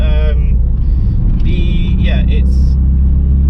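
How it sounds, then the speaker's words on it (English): A Mitsubishi Lancer Ralliart fitted with an Evo X FQ360 twin-scroll turbo running at about 18 psi idles with a loud, steady engine drone, and faint whistling tones rise briefly over the low rumble. "FQ360 turbo is running."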